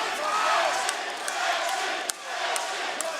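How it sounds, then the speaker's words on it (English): A crowd murmurs and shouts at a cage fighting event, forming a steady roar with a few sharp thuds and cheers. A commentator's voice is faint above it. "You can hear the crowd behind Colin French there"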